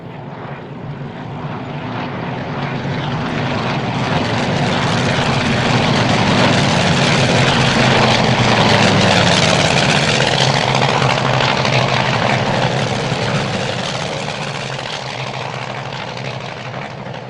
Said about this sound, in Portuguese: mais de 90 aviões em formação de combate dirigem-se para o centro da França